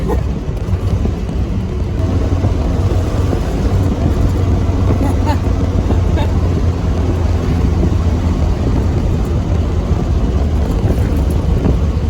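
A 1970 Corvette LT1 barn find, running for the first time in 20 years, idles with a loud, steady low rumble that holds constant throughout at close range.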